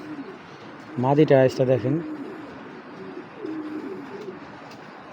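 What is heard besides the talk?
Pakistani Golden pigeon pair cooing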